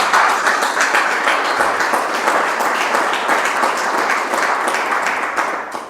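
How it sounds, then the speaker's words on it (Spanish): A church congregation bursts into sustained, dense applause that holds steady for several seconds before tapering at the end, with no talk heard over it. "Denle un aplauso al Señor, hermano."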